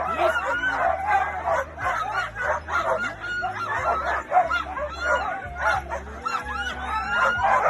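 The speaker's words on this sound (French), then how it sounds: "ce sont des chiens pyrénéens, ce ne sont pas des chiens italiens" A team of Pyrenean sled dogs at the start of a La Grande Odyssée race stage at Praz de Lys Sommand barks, yips and whines in a loud, continuous, excited chorus.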